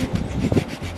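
A brief rasping saw cut through wood as the lip is cut on a handmade wooden fishing lure, close and fairly loud, lasting about a second.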